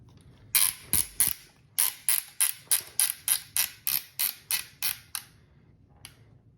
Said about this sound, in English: Start spinning that screw back in.